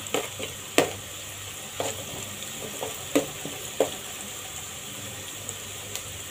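Finely chopped garlic frying with onion and tomato in a pan for a dhaba-style veg Maratha curry, a steady sizzle with occasional soft stirring knocks, close and alone.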